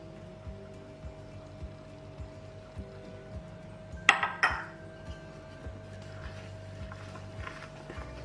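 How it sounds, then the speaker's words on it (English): Dry ingredients for bakery-style hot dog buns are stirred in a large bowl, giving soft regular taps and scrapes over a faint hum, with one brighter clink midway. "Stir to mix it well."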